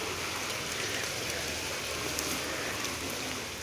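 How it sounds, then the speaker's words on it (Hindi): Steady rain falls outdoors, a dense continuous hiss of drops with no pauses, close and fairly loud. "बारिश की सूरत हाल देख सकते हैं आप, बारिश ही आ रही है और मैं सारा गीला हो चुका हूँ"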